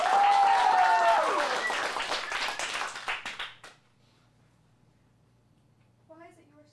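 Audience applause at a teen performance showcase, loud and dense at first, then thinning into scattered claps and fading out, followed by a brief voice.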